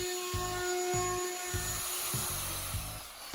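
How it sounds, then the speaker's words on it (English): A router fitted with a rabbeting bit cuts a T-slot into a router table: a steady high motor whine runs throughout while a lower cutting rasp pulses in repeated short strokes. "I'm going to add a T-slot in using a rabbiting bit."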